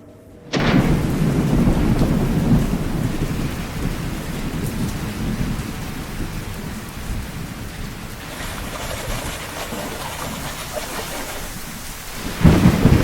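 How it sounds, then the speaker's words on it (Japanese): A heavy thunderstorm in a dramatised attic scene: dense rain pours steadily while deep rolling thunder rumbles loudly throughout, and a fresh crash breaks in at the very end. "思ったより嵐が強いです。"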